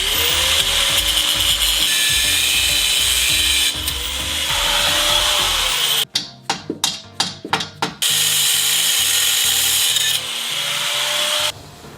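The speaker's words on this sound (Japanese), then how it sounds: "スタビリンクのところ切っちゃいます。" Power tool cutting through a seized stabilizer link on a Suzuki Every DA64V van: long grinding runs, a break with several sharp bursts, then more steady cutting.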